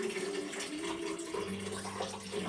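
Water pours steadily into a container, two cups' worth for a vegan cheese recipe, with a constant running flow and some rising tone as it fills; no one speaks.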